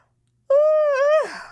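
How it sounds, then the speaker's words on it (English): A single close, loud voiced yawn rises into a drawn-out tone and trails off in a breathy exhale. "I'm going to yawn one more time."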